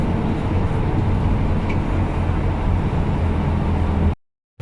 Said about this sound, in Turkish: Şimdi otobüsle yolculuğa devam ediyoruz.